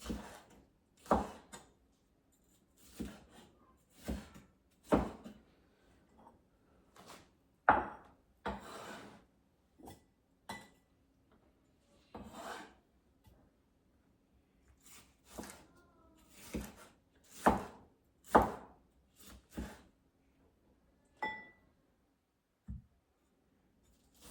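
A knife chops a tomato on a cutting board in sharp, irregular knocks, some quick in succession and others spaced apart, close and clear with no voices.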